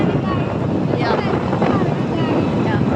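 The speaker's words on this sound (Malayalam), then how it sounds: "എറണാകുളം വരെ ഞങ്ങൾ സ്കൂട്ടിലാണ് ഗൈസ് പോകുന്നത്." Constant heavy wind roar buffets the microphone while riding a scooter on the road toward Ernakulam, a loud, unbroken rushing with no clear voices above it.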